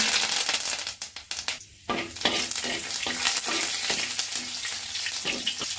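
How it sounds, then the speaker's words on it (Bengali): Homegrown curry leaves tempering in hot ghee for khichuri, a loud crackling sizzle with rapid pops and spoon stirring that briefly dips, then surges again, close and without speech. "দিয়ে দিলাম ঘি, যে কারি পাতা, প্রাকৃতিক পরিবেশে একদম বড় হওয়া একটা কারি পাতা দিয়ে দিলাম ফোড়ন।"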